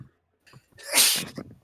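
A single loud sneeze bursts out with a sharp inhale and a bright explosive release, clear and close with no talk around it.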